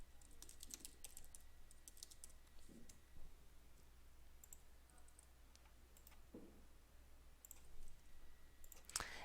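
Quiet, steady computer keyboard typing as a username and password are entered, with soft clicking keystrokes in irregular clusters.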